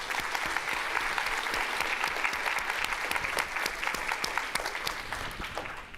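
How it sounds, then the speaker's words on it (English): An audience at a panel discussion on diversity and design applauds the panelists with steady, dense clapping that fills the room at an even level for the whole stretch. "Round of applause for our panelists."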